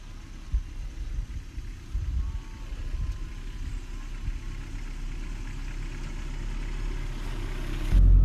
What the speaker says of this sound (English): just literally letting the engine tick over and just go down nice and gentle down here